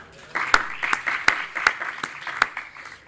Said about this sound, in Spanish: un último aplauso os pido para la Generalitat Valenciana